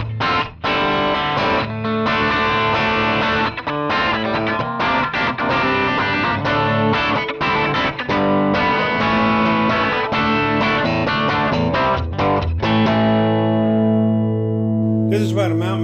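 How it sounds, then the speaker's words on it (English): A 1981 Ibanez Musician MC 550 electric guitar played through a subtle rock distortion, with dense sustained chords and riffs running continuously and loud, ending in a long ringing chord. "let's dial in some subtle distortion."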